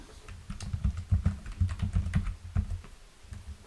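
Typing out a chart title in Microsoft Word on a computer keyboard: steady, close clicks and clatter of keys for several seconds, irregular in rhythm, with no talk over it.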